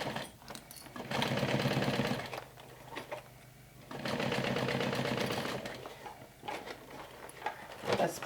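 A sewing machine stitches layers of a backpack together in two sustained runs of rapid mechanical whirring, separated by pauses with light clicks and handling noises, recorded close up.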